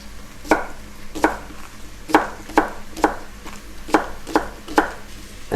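Knife chopping scallions on a board: eight sharp, evenly spaced chops close by, with a faint kitchen background between strikes.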